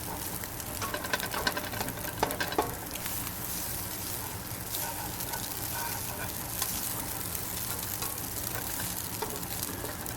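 Steady, crackling sizzle of instant noodles frying in a hot pan, continuous and close, with faint stirring scrapes and no voices.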